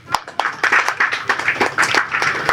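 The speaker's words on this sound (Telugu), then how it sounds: "ఒకసారి అందరు క్లాప్స్ కొట్టాలండి." Audience applause at a film press meet, a brisk burst of many hands clapping with distinct sharp claps, fairly close and loud, filling the moment with no talk over it.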